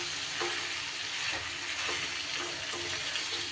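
Chicken slowly frying without water for kala bhuna, giving a steady close sizzle broken by soft periodic scrapes as it is stirred in the pan; no voices.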